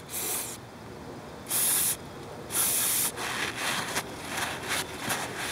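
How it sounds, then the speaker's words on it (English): Brake cleaner sprayed into a control arm bushing hole, heard as three loud, steady aerosol hisses lasting about half a second to a second each, followed by quieter rubbing and dripping sounds close by. "I'm going to be using some brake clean just to get this cleaned."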